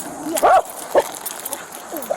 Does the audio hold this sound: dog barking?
yes